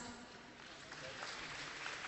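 Crowd applause, a steady patter of many hands clapping, moderately distant and sustained for the full length.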